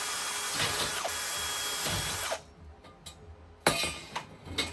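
A power drill whirs loudly at close range for a couple of seconds, then cuts off, leaving faint clinks and handling noises in a quiet space.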